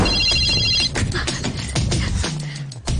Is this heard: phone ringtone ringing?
yes